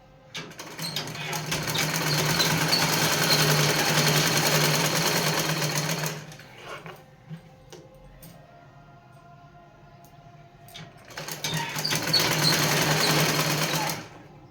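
An electric sewing machine stitches a blouse in two long loud runs, about six seconds and then three seconds, steady whirring with a quiet pause between.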